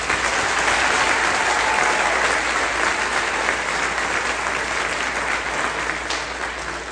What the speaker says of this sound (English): let's give one more round of applause to show how proud we are of all of our students here today